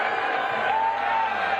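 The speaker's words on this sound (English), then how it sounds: "Oh, people are booing." A loud, sustained roar of booing and yelling rises from the crowd at the Libertarian convention as Donald Trump takes the stage, with one drawn-out voice standing out from the mass.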